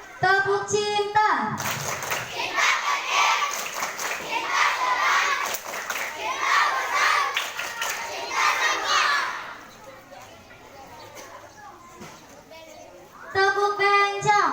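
Elementary school children at a scout activity in Indonesia clap and chant the 'tepuk cinta' rhythm together, loud group voices with rhythmic clapping, then a quieter pause before a single adult voice returns.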